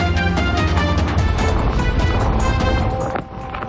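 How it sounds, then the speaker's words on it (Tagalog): Strong gusty wind roars across the microphone in Oriental Mindoro after Typhoon Opong, a loud continuous rush that eases slightly near the end. "pabugso-bugso pa rin ang hangin dito sa Oriental Mindoro"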